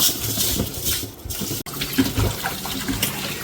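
Tap water runs steadily while fish pieces for Nellore-style fish curry are rinsed in a bowl, with close splashing and sloshing, one brief break, and no talking.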